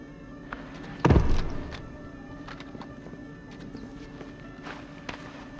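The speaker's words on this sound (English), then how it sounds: "of course we can hear this guard's footsteps" A guard's footsteps in the PS2 stealth game Tom Clancy's Splinter Cell: one loud nearby thump, then soft, fairly regular steps continuing quietly under low ambient game sound.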